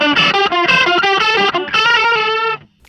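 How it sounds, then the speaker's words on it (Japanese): An electric guitar runs through a multi-effects unit with a Marshall MS800 distortion model and chorus. Bright, saturated, shimmering notes ring loudly for about two and a half seconds, then cut off into silence. "歪みをマーシャルの MS800 っていうやつにしてます"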